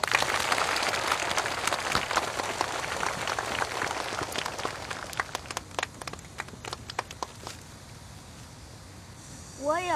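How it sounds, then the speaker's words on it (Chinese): A room full of people claps steadily to welcome a student to the front of a class to recite an essay. The clapping is dense and close, thins out after several seconds, and fades into quiet room tone. "掌声欢迎"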